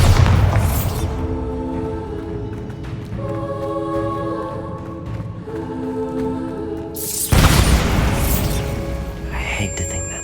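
Bombarda exploding spell blasts in Hogwarts Legacy on Xbox Series X: a heavy boom at the start and another several seconds later, with sustained tonal ringing between them.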